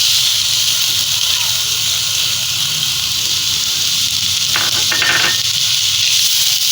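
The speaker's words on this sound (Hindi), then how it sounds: "अब हम इसमें सबसे पहले गाजरें डालेंगे ताकि उनको अच्छी तरह भून लें।" Carrots for a gajar sweet dish frying in oil in a pan, a loud continuous hiss and sizzle throughout with a brief burst of spatula scraping near the middle.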